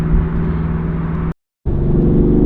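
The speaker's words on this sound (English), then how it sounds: "Man, listen to this car." A Ford Mustang GT engine drones loud and steady while driving, a close continuous rumble broken by a brief silent gap midway before resuming.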